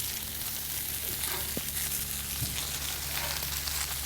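Hispi cabbage searing and browning in a very hot pan, a steady dense sizzle throughout with a few faint clicks and scrapes, no talk.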